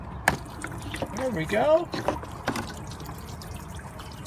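Washer fluid drains out of a Jeep Wrangler's washer reservoir and splashes onto the ground in an uneven trickle, with someone speaking briefly over it.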